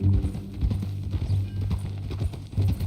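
Horse hooves clop steadily along in a Red Dead Redemption 2 game scene, a close, uneven run of thudding footfalls with brief pauses, heard alone without talk.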